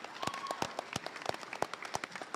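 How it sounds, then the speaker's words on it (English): A small group claps at an awards ceremony, sharp irregular hand claps close by lasting a couple of seconds. "So big round of applause to these people right here."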